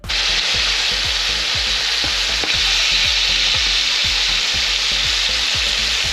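Squid for fried calamari sizzles loudly and steadily in a pan, with regular scraping strokes of stirring repeating underneath the constant hiss.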